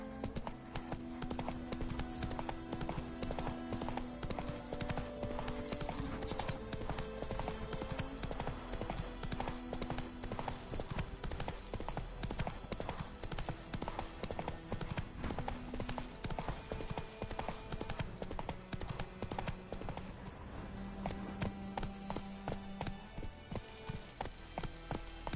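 Roach, a horse in The Witcher video game, clip-clops along in a steady rhythmic stream of hoofbeats over a dense game soundscape that runs throughout.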